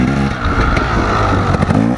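A KTM dirt bike engine revs loud and close on a practice track, its throttle rising and falling in a continuous raspy roar with some mechanical clatter.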